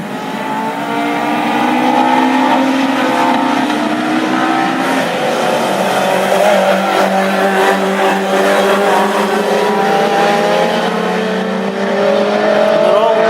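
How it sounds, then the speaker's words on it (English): Classic Ford Pinto hot rod race cars roar around Tipperary Raceway at night, a loud overlapping drone of engines with pitch sweeping as they pass, under continuous race commentary. "The roar of the Pintos, crystal clear in the night air here at Tipperary Raceway"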